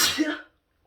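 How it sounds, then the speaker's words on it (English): A single sneeze bursts out close by, sharp and loud, then quickly fades to silence. "this sneezing means I'm done talking"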